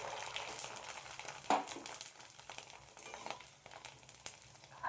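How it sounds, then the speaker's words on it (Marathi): Sandge, puffed fasting fritters, crackle and sizzle softly in very hot oil, a faint steady fry with a few sharper pops scattered through and no voices. "आता बघा तेलामध्ये सांडगे अगदी थोडेसे टाकलेले आहेत मी तेलामध्ये तळण्यासाठी"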